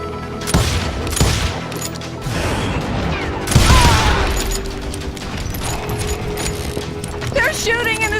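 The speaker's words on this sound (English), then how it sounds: "They're shooting in the street!" Dense gunfire crackles through a street shootout in the Western video game Call of Juarez: Gunslinger, with a sharp blast near the middle and sustained shots throughout, while voices shout over the din.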